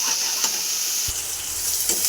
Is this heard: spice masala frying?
yes